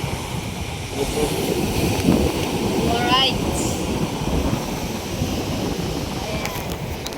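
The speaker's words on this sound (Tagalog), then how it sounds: "Grabe ang lakas ng hangin." Strong wind buffets the microphone on Nasugbu Beach in Batangas, a steady roaring rush with surf blended underneath, while someone speaks briefly over it.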